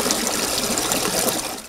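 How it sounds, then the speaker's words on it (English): Raw sewage flows through an informal settlement bordering a garbage dump site, a steady broadband rush and gush of running water with no breaks, moderately loud and close throughout. "Raw sewage flowing in this informal settlement which borders the dump site."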